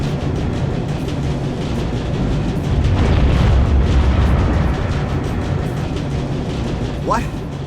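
A pulse cannon explosion in the Captain America Super Soldier game, a loud rumbling boom swelling in the middle of a noisy roar, with a brief whoosh near the end.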